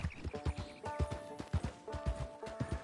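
Horse hooves in Red Dead Redemption 2 clip-clop in a quick, steady rhythm, close and distinct. Faint tonal game sounds run beneath the hoofbeats.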